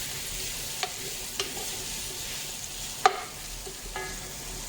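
Onions being stirred and mixed with oil in a pot for a spicy mutton stew, with a quiet steady sizzle and a few sharp scrapes of the spoon against the pot.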